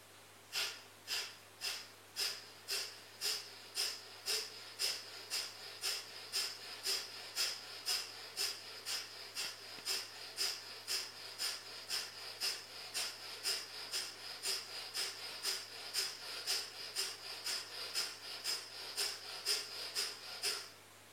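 Kapalabhati yoga breathing: a long, even series of sharp, forceful nasal exhalations, about two per second, each a close, breathy puff, with no talking.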